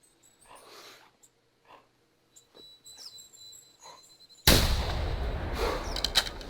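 A sharp, loud hunting rifle shot in The Hunter Classic on Timbergold Trails cracks out suddenly after quiet rustling and faint animal calls, then a long ringing tail decays.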